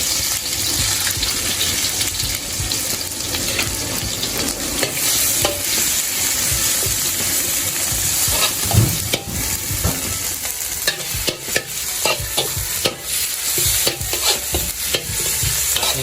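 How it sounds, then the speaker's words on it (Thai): Continuous sizzling and scraping of chicken and vegetables being stir-fried with red curry paste in a hot wok, with steady frying crackle and intermittent clanks of a spatula, no voices. "ไปตั้งกระทะ แล้วก็ ผัดกันเลยครับ"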